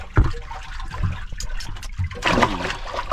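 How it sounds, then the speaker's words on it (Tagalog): Fish are released from a bag into aquarium water with faint splashes and trickling, soft and close, with quiet background noise. "Yun, lalagay sa aquarium na may tubig."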